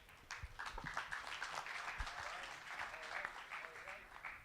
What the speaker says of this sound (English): you can keep that applause going